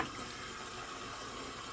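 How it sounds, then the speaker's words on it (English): Tap water runs steadily into a sink while shaving soap is lathered with a badger brush, a continuous close hiss with no pauses. "Get a little more water on there."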